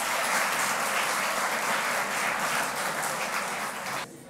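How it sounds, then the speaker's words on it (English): Students in a hall break into steady, dense applause that holds at a strong level for about four seconds before dropping off abruptly near the end. "Clap for yourself"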